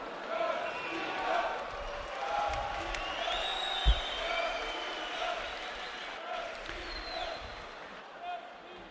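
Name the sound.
crowd cheering at boxing world championship semi-final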